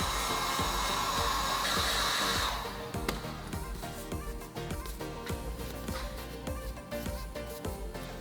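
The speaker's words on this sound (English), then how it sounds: "Fortunately, I thought to pack the heat gun, which is great because this stuff is kind of curling in the wrong direction." A heat gun blows with a steady loud roar while curling plastic sheet is warmed for hand forming, the airflow shifting tone partway through under faint clicks and handling noises.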